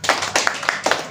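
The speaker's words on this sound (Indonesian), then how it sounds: "Kita tepuk tangan untuk Ola." A small group of children in an English class clap their hands close by, about six quick uneven claps that do not quite fall together.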